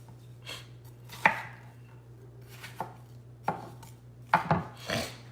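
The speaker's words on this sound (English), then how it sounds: "Rough chop it, right in the bowl." A knife roughly chops an orange bell pepper in a bowl, a handful of sharp, irregular cutting knocks spaced across a few seconds, close and clear against quiet kitchen room noise, with no talking.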